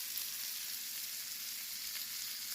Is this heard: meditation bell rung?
no